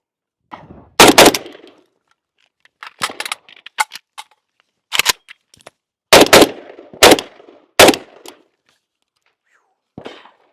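A retro-modded AMD-65 rifle fired outdoors on a range, with single loud gunshots and short doubles spaced irregularly, each a sharp crack with a quick decay, separated by silence.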